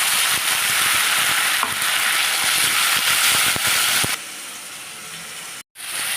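Loud, steady frying sizzle of onion paste in oil with occasional stirring scrapes, which drops to a quieter hiss partway through and briefly cuts out near the end.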